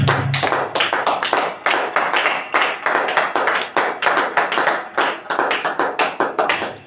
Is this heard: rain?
no